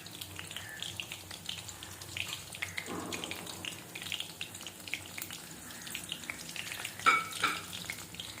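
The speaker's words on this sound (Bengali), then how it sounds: "এবার আমি কুমড়ো ফুলগুলো বেসনে ডুবিয়ে ওতে দিয়ে দেবো।" Pumpkin flowers dipped in gram flour batter sizzle and crackle steadily in hot oil in a kadai, a close, fairly quiet frying hiss with occasional utensil clinks and no talking.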